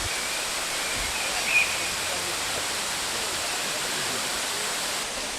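Waterfall in Litchfield National Park pouring into a plunge pool, a steady broadband rushing roar heard fairly close, constant and unbroken throughout.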